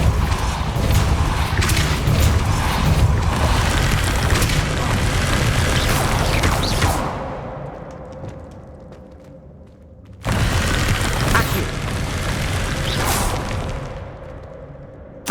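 Spell explosions in the video game Hogwarts Legacy: loud, dense booming blasts and whooshes roll on for several seconds, drop away to a quieter ringing tail, then a second heavy barrage bursts in abruptly.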